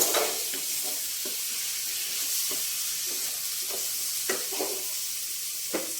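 Sliced cucumber dropped into a pan of fish curry for a Telugu dosakaya fish curry, a steady sizzle with intermittent stirring scrapes and soft clinks throughout, close and alone without talk.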